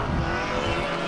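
Ford Falcon heritage touring race car pulling away on the old front straight at Winton, a loud, steady engine roar with a rising note and some tyre noise throughout, no talk.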